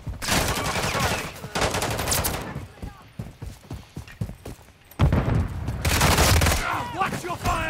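Call of Duty gameplay with dense rapid-fire gunfire in loud sustained bursts, a pause of scattered shots in the middle, then another heavy burst, while players talk over it.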